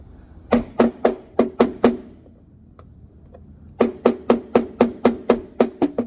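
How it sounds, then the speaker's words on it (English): Sharp metallic hammer blows drive a chisel through a C5 Corvette front inner fender, six evenly spaced strikes, a pause with a few faint taps, then a longer run of about nine steady strikes, close and loud. "what we can do on this is kind of chisel our way through"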